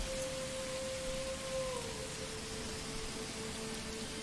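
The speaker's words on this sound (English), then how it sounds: "Oh, look at that heavy rain." Heavy rain in the medieval city-builder Manor Lords pours as a steady, dense hiss of drops on the ground throughout, with a faint tonal hum running beneath and no talk.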